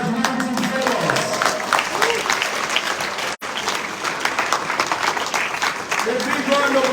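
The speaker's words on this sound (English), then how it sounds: "give a big round of applause to our 2023 graduating fellows?" Conference audience applauding the 2023 graduating fellows at a meeting in Mombasa, Kenya, sustained dense clapping with cheers and voices mixed in, broken by one brief dropout midway.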